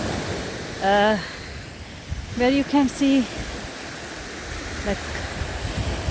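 Steady wash of waves on the shore at Woodbine Beach in Toronto in winter, a broad continuous surf noise running throughout beneath brief bursts of someone talking.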